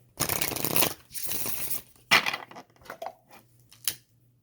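Tarot cards are shuffled by hand in several quick riffling bursts of papery rustle, close and moderately loud, with short pauses between them.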